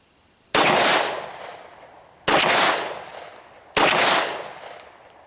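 A Glock 19 Gen 4 pistol firing 9mm +P rounds outdoors at long range, three sharp loud shots spaced about one and a half seconds apart, each trailing off in a long echoing decay.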